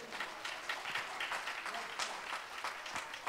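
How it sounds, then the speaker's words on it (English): A church congregation at a Sunday service claps along, a steady, fairly faint patter of many hands heard at a distance with a lively rhythmic feel. "Would somebody clap your hands to the Lord?"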